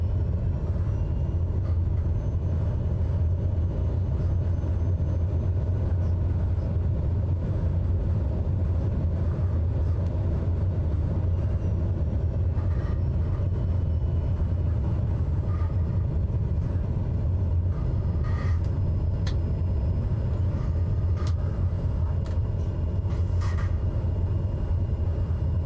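An aircraft in Microsoft Flight Simulator 2020 taxis down a runway, a steady low engine rumble and hum running unbroken throughout with a few faint clicks and ticks over the top.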